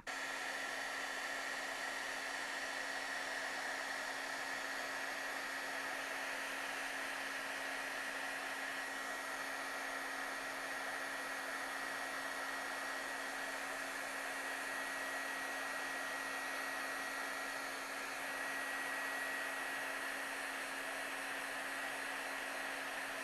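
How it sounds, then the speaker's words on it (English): A heat tool for embossing powder runs continuously, a steady fan-driven whoosh with a constant mechanical tone, fairly quiet and alone for the whole stretch. "And now I'll get my heat tool warmed up."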